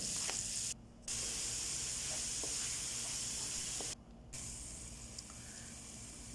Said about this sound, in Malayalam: ചിക്കനെല്ലാം വറുത്തതിന് ശേഷം ആ പാനിൽ തന്നെ സവാള അരിഞ്ഞത് ചേർക്കുക